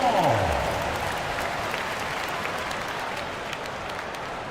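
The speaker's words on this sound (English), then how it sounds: "yourself a round of applause" Crowd applause at a basketball game fills the arena, steady and dense throughout with a commentator's voice over it.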